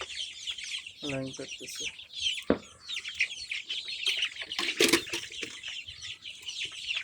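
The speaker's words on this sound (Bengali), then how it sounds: "এই যে এই মুরগিটা দেখুন, এই মুরগিটা কিন্তু এই যে লাইন কাটতেছে।" Domestic chickens cluck and chirp close by in a rhythm of short, scattered calls, with brief louder squawks and light rustling.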